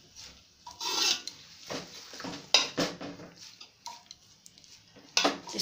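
Spatula stirring onion leaves frying in oil in a pan, irregular scraping and rasping strokes against the pan with light clinks, close and fairly quiet between bursts.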